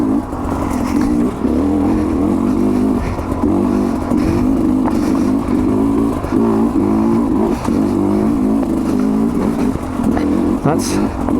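Sherco 250 SE Factory enduro motorcycle ridden on a rough trail, its engine droning steadily and loudly with small throttle surges throughout, close up, while a rider speaks over the noise.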